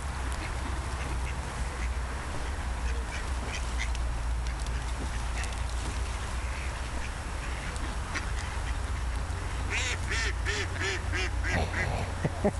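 Several ducks being fed at the spa in Teplice nad Bečvou quack over a steady background hum, the calls growing into a loud, clustered burst of quacking toward the end.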